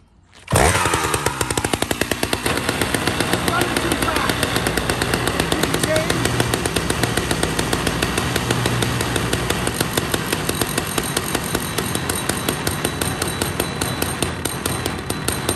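A logger's chainsaw is started and then runs at a steady, loud roar for about fifteen seconds, its engine buzzing continuously and close by with no talking.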